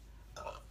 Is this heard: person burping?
yes